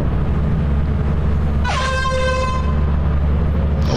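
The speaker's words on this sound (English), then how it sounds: "Oh, there's an air horn." A loud air horn blast in a video game, with a falling pitch, cuts in partway through over a constant low rumble, then fades out.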